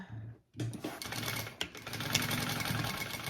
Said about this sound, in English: I'm just doing a row of stitching to the right of my first.